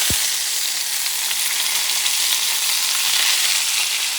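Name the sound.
ribeye steak frying in a pan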